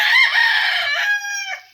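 A rooster crows nearby, one loud, drawn-out cock-a-doodle-doo that rises and then trails off, heard on its own.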